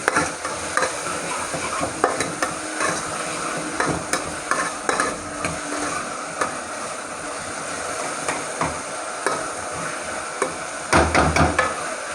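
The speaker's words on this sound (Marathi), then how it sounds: "भोपळा कसं आहे ना वाफेवरती पण शिजतो छानपैकी म्हणून त्याला कांद्यावरच परतायला टाकलेला आपण" Pumpkin pieces being sautéed with onion in a pan for sambar, with a steady low sizzle and frequent scraping stirs throughout, and a louder cluster of stirring clatter near the end; no talking.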